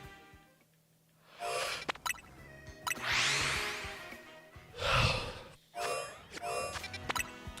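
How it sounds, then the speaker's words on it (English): A person yawns during a livestream, drawn-out breathy yawns with rising and falling strain, loud and close, repeated a few times with short gaps between them. "I'm sorry, I keep yawning."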